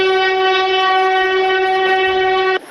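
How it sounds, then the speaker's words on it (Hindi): Train horn from a train arriving at a station: a single loud, sustained, steady horn blast that holds for over two seconds, then cuts off abruptly. "देख ट्रेन आ गई, चल बेटा जल्दी उठ जा।"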